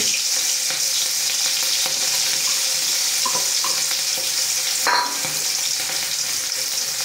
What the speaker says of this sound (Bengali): আমার তেলটা এসে পড়েছে আমি এখানে পেঁয়াজ দিয়ে দিব